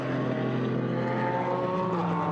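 A BMW GT4 race car drives past at the Nürburgring during a GT4 European Series race, its engine a steady, loud, continuous drone heard at a distance with a slight pitch shift.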